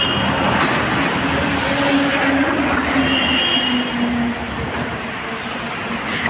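A metro train at a Kolkata metro station roars loudly and steadily, with drawn-out wheel squeals and metallic screeches as it runs close by, easing slightly near the end.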